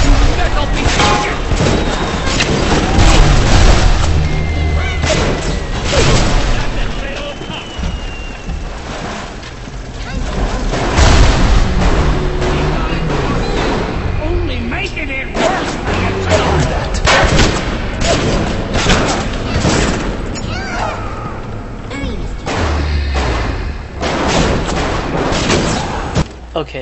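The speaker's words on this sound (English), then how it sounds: "splicers try to take out this Big Daddy. The Big Daddy will completely kick their ass" In the BioShock video game, a Big Daddy fights splicers. The dense, loud combat brings repeated gunfire, booms and heavy impacts, with game voices shouting throughout.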